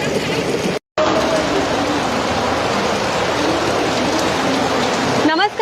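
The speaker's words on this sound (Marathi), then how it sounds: "कल्याण डोंबिवली शहरामध्ये सुद्धा सकाळपासून पावसानं जोर धरलेला आहे" Heavy monsoon rain pours down in Kalyan-Dombivli, India, in a loud, steady hiss, broken only by a brief silent gap near the start.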